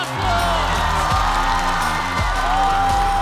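A studio audience at a stand-up comedy show claps and cheers loudly as a team is introduced, a dense crowd roar over upbeat stage music.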